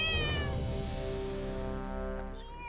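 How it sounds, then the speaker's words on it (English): A cat gives one long, drawn-out meow that bends in pitch. It is fairly close, carries alone and fades off near the end. "Good timing for that cat at the end."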